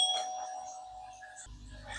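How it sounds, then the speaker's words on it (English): A doorbell chimes indoors, a sustained tonal ring that fades out, followed by a low rumbling noise. "Sorry, that was my doorbell."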